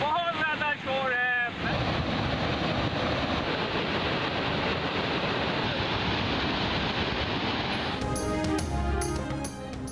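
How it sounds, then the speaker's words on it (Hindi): Floodwater rushing over an overflowing reservoir on the Malir River in Karachi after heavy rain, a loud continuous roar of torrent and wind noise with a voice speaking briefly at the start and end. "ये बड़ी मिकदार में पानी, बहुत ज़्यादा शोर है।"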